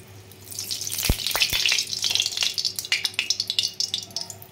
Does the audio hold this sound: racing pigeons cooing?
no